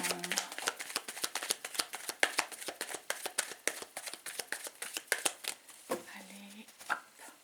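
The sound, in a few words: cutting a deck of tarot cards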